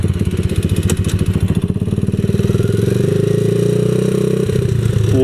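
A 127cc X7 pocket bike engine runs close by with a rapid, pulsing idle that steadies into an even, buzzing drone, with a little clatter at the start.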